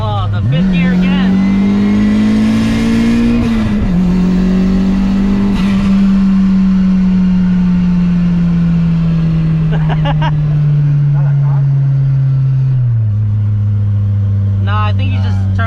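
Stock-turbo Mazda Miata on E85 at 17 psi doing a donut: a loud, close engine holds a steady high rev, dips and sags, then drops to a lower drone, with tire and street noise and people talking over it.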